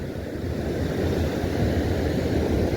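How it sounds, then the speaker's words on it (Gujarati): Sea waves roll and crash onto the shore near Dwarka as a steady, broad, rushing wash, moderately loud and unbroken, with no talking. "આમ જો મોજા આવે ફૂલ યાર"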